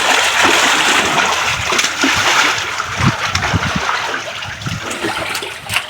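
Water gushes and splashes out of a tubewell outlet, a loud continuous rushing spray with irregular splattering bursts close by, and no one talking over it.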